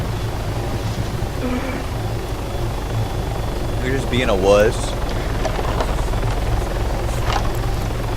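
Helicopter in the Arma 3 combat game, flying low near the ground, with a steady low rotor and engine drone running throughout beneath a casual spoken voice.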